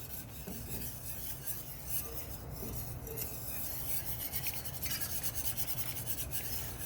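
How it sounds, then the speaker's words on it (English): A wire whisk works through a creamy velouté sauce in a pan, giving a steady, soft scraping rasp that runs continuously at close range with no one talking. "So I'm just going to kind of whisk that through."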